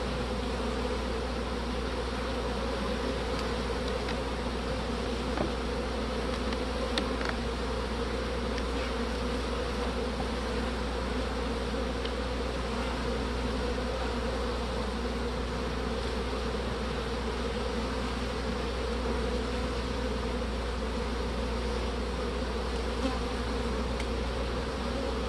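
Honey bees hum steadily around an open hive, a dense, continuous buzz heard close and unbroken with no talking.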